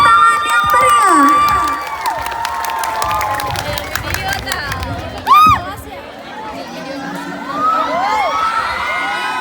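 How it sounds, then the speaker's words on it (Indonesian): A school audience at a student performance showcase cheers and shouts in a bright, busy wash of crowd noise, with children's voices rising above it and a brief loud whoop near the middle; talk mixes in throughout. "Beri tepuk tangan yang meriah."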